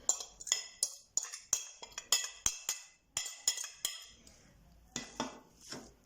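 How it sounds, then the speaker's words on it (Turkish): A utensil tosses cooled boiled potatoes with half a bunch of parsley and green onions for a yogurt potato salad, giving a close, rhythmic run of sharp clinks against the bowl, then a few softer scrapes. "Şimdi bunları da bir güzel harmanlıyorum."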